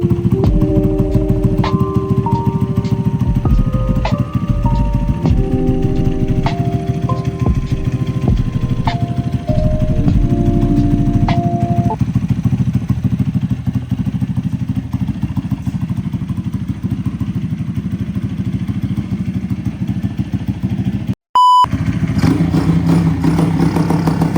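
A YX160 engine fitted to a Delta pit bike runs at a steady, close, rattly idle for the whole stretch, with a brief cut near the end before it carries on.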